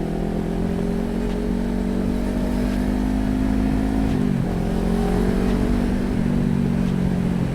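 A Kawasaki Ninja 400 motorcycle, its engine warning light on, hums steadily while being ridden, the engine note shifting in pitch as it revs and changes speed over constant wind and road rush.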